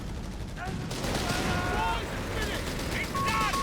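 Dense, steady gunfire from a Company of Heroes 3 battle between Wehrmacht and British forces, a continuous crackling fusillade of rifle and machine-gun bursts at moderate loudness with faint voices mixed beneath it.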